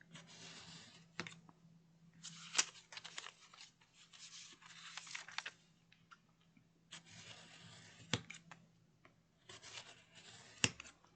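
A blade pressed down and drawn through a half-size composition book with a chipboard cover, giving faint scratchy cutting strokes in irregular bursts, sharp clicks between them and a low steady hum beneath.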